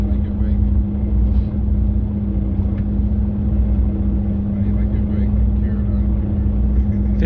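A city bus rides from Sollentuna to Solna in Sweden, heard from inside. The engine and road rumble stay low and steady throughout, with faint rattles and a quiet voice underneath.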